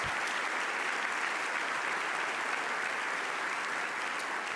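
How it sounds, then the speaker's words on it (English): Steady, dense applause from a large awards-ceremony audience, even and sustained throughout with no voices standing out. "how about one more round of applause for all of our teams?"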